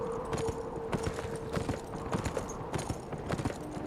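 Rapid, rhythmic hoofbeats of a galloping horse in the video game Beyond: Two Souls clatter steadily and up close, over a faint constant hum.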